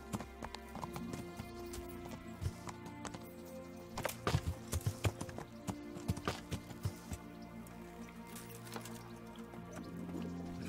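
Horse hooves clip-clop in an irregular trotting rhythm while riding in the Kingdom Come Deliverance video game, moderately close, with some squishy steps over faint background.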